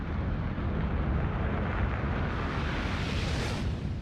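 A loud, sustained explosion roar from a World of Warcraft game cutscene, broadband rumble filling the whole stretch with no pauses and no speech over it.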